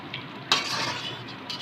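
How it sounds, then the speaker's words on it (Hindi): Chicken koyla karahi frying with spices and crushed red chilli over full flame, a steady close sizzle broken by a brief stirring scrape near the middle and another at the end, with no talking. "फुल आँच पे ही रहते हुए इस कढ़ाई में पकाना है"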